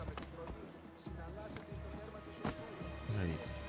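Horse hooves clip-clopping in the Assassin's Creed Odyssey video game, a steady galloping rhythm of muffled beats under a continuous game music and ambience bed, with a soft neigh-like swell near the end.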